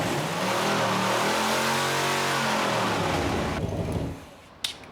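A car engine revs loud and sustained after mothballs are added to its fuel tank, pitch sweeping up then settling before cutting off near the end with a brief sharp noise.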